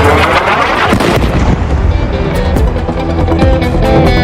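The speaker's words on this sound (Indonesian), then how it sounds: "Ledakan ini terjadi di Gaza, tepatnya di wilayah Deir al-Balah, Gaza Tengah." Sustained heavy blast rumble from an Israeli strike on empty ground beside rows of displacement tents in Deir al-Balah, central Gaza, loud and dense throughout with rolling low booms and crackling debris.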